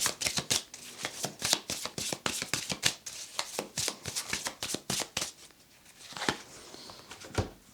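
Tarot cards shuffled by hand in quick riffling bursts, a close, crisp patter of repeated flicks that slows and thins toward the end, with no talking.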